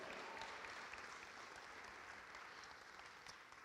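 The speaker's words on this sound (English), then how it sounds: "Yes, we could clap for Judson." An audience applauds inside the sanctuary of Judson Memorial Church at an evening celebration of John Adams's El Niño, a soft, steady wash of clapping that holds evenly throughout without any talk.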